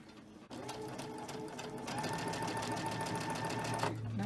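A sewing machine runs steadily stitching quilt row pieces together for a Halloween mystery quilt, a continuous close mechanical whir that starts after a brief pause and holds on alone without talk.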